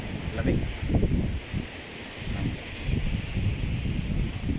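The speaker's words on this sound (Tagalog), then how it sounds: "Tara na, lakas ng hangin." Strong storm wind in Wales buffets the microphone in steady low rumbling gusts, with a broad rushing noise that swells and eases throughout.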